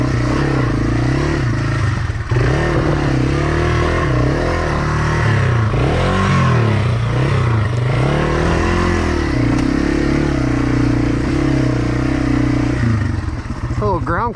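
A Yamaha TW200 motorcycle with a Bradley Performance rear tire works its way over slick off-road ground, its engine droning loud and steady with throttle rises and clattering knocks throughout.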